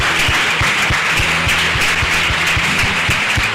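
Congregation in a Brazilian evangelical church service giving a steady round of applause to the Lord, dense even clapping holding at a constant loudness for a few seconds with a low hum beneath.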